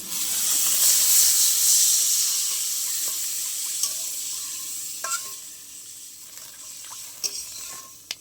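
Water poured into a hot pan of white sesame seeds spits and sizzles loudly at first, then settles into a steady hiss with a few scattered pops and small clinks.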